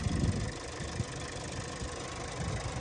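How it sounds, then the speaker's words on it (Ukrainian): A 2020 Volkswagen Jetta R-Line engine idles steadily and quietly, a low continuous rumble with faint knocking pulses throughout, no voices. "Двигунчик отак працює тихесенько."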